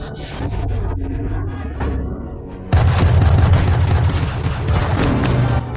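Heavy booming blasts of artillery fire in an animated film, loud and sustained, with a sharp jump in intensity midway into a dense barrage of explosions.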